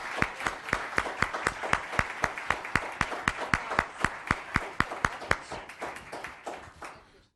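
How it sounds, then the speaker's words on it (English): Applause for the bakery Icing on the Cake at a Los Gatos town council meeting, a steady run of crisp, fairly close hand claps that thins out and fades toward the end, with no talking over it. "Please join me in giving a round of applause to Icing on the Cake"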